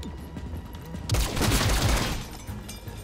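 Rapid burst of gunfire in the video game XCOM Chimera Squad, a loud volley of overlapping shots lasting about a second with quieter game sounds before and after.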